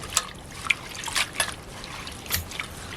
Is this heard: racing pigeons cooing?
no